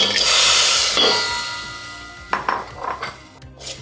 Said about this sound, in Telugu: బెల్లం కరిగేదాకా ఇలా కలుపుతూ ఉండాలి.